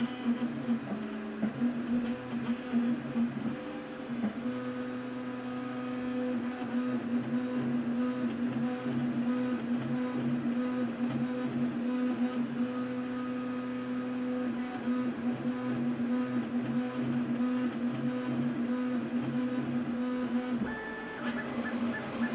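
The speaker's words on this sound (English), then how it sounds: "I'm just going to let it run at regular speed so you can see how fast this printer moves" A Creality K1C 3D printer runs at full speed on a table, its stepper motors whining in steady, shifting tones with a constant mechanical hum, loud and close, with no talking.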